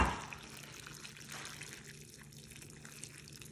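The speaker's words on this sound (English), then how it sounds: "Let me just boil it for an hour. Spilling everywhere." A pot of Vietnamese chicken pho broth with spices boiling over, giving a steady bubbling, watery hiss with faint drips and no talking.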